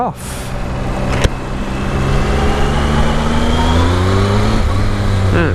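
A Triumph Tiger 1050 motorcycle pulls away under acceleration, its engine note rising steadily through the gears, loud and close, with wind rush building throughout.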